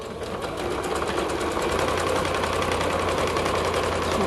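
Sewing machine running steadily with a fast, even mechanical chatter while stitching stretchy jogger fabric, close and continuous with no pauses.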